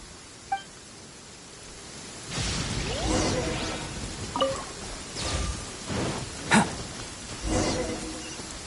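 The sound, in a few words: thunderstorm with rain in a video game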